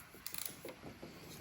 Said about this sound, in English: we're gonna torque this oil filter cap back down to 25 Newton meters